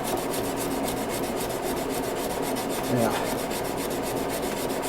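A knife bolster is hand sanded back and forth with abrasive grit, producing a steady rhythmic rasping close by, with a brief spoken word partway through.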